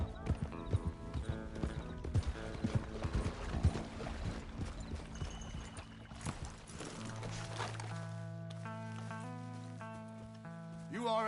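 Horse hooves clip-clop in a rhythmic run through the Red Dead Redemption 2 video game, moderately loud at first, then fading under sustained musical tones toward the end.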